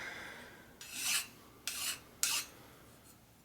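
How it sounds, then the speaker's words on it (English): A hand file rasps over a Shovelhead motor case during deburring, in four separate short scraping strokes, fairly close, with brief pauses between them. "We got most of the deburring done."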